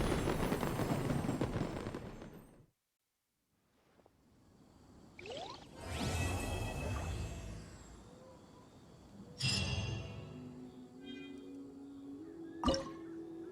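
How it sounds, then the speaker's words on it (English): Fireworks go off during the Lantern Rite festival in the video game Genshin Impact: whooshing launches and several separated bursts with crackling tails, set apart by quiet gaps and a sharp final pop. "What did you think of this year's fireworks display?"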